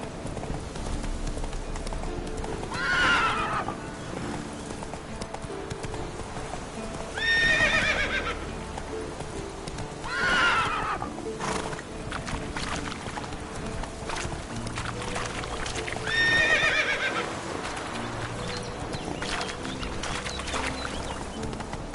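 Roach, the horse in The Witcher 3, gallops with a continuous rhythmic clip-clop and lets out several loud whinnies spaced a few seconds apart, with game ambience and occasional bird sounds underneath.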